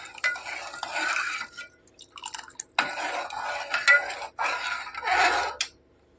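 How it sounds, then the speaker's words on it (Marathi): A spoon stirs and scrapes vermicelli in a pot of boiling milk in short bursts, with light clinks and pauses between strokes. Close by. "यात हे शेवाळे टाकून घ्या छान हलवून घ्या"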